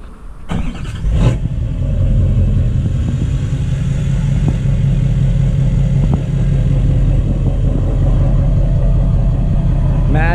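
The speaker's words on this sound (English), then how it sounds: "let's do a cold start of MadMax" Duramax diesel pickup truck started cold: a brief cranking clatter, then the engine catches and settles into a loud, steady idle rumble close by.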